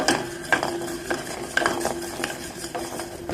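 Ajwain leaf tea sweetened with jaggery is stirred by a spoon, giving close, repeated light clinks and scrapes against the vessel in an irregular rhythm, with no talking.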